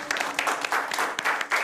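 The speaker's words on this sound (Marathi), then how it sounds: "जोरदार टाळ्या झाल्या पाहिजे" Audience clapping for a performer announced on a Ganesh festival stage show, a dense burst of applause with uneven swells that stays loud through the short stretch.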